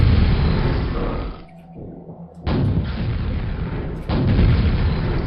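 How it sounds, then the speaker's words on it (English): Grenade launcher blasts in Quake, heavy booming explosions with rumbling roars; one loud burst fades, then sharp new blasts hit around the middle and again near the end, all close and loud with no voices. "Grenade launcher."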